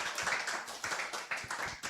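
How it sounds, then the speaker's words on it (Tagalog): A church congregation claps loudly at a 2026 New Year service, a steady dense patter of many hands in a fairly roomy space, with no talking on top. "pwede ba isa mo na malakas sa palakpak para kay Lord Jan?"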